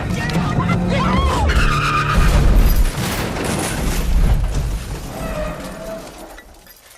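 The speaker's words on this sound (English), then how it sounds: "The car crash." A dramatic movie car crash: loud skidding tires squeal and engine noise surge, with crunching, shattering impact sounds mid-way, then the commotion fades out, partly under a voice.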